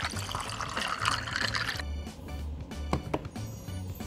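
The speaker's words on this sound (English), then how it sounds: "pour the tea in my cup." Liquid pours and trickles into a cup from a toy breakfast playset for about two seconds, followed by quieter drips and light clinks close by.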